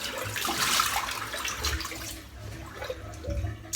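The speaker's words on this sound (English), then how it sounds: "Splash a bit of water, wet the block." Water splashes and trickles onto a block of shaving soap at a sink, close and fairly soft, in a few uneven bursts with no talking.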